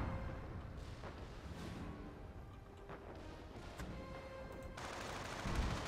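Battle gunfire from the Company of Heroes game, dense and continuous, with scattered shots and bursts layered over a steady rumbling din of combat at moderate loudness.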